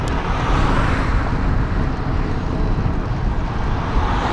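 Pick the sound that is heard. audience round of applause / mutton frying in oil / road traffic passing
road traffic passing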